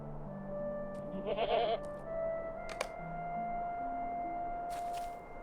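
A goat in the video game LOTRO gives a short, wavering bleat over soft game music and tones, with a few faint clicks after.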